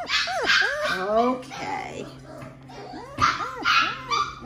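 Several puppies yip and whimper in rising and falling squeals, close by, with a person speaking softly over them at times.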